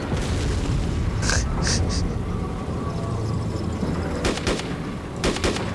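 Gunshots ring out in the video game Arma II: Operation Arrowhead, with several sharp reports in two clusters over a constant rumbling battlefield background.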